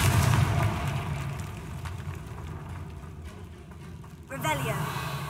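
A Confringo blasting spell from Hogwarts Legacy goes off as a sudden muffled boom and crackle late in the clip, following a dense stretch of game noise with voices over it.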